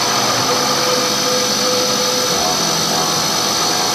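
A steady, high-pitched mechanical whine of a power drill drones continuously at close range, loud and unbroken, like a motor spinning at speed.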